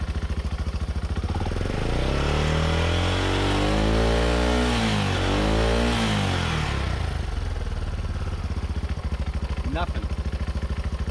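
A Yamaha YFM200 Moto 4 ATV engine runs close by and is revved, its buzzing pitch climbing then falling back in a broad sweep before settling into a steady idle with a rattly edge.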